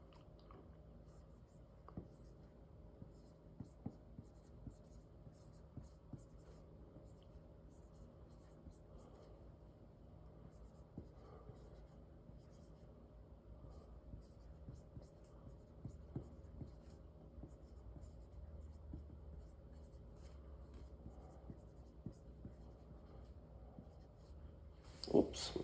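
Soft scratching of a pen writing on paper in a classroom, faint and steady over a long stretch with small taps and pauses, low room hum underneath and a louder knock at the end.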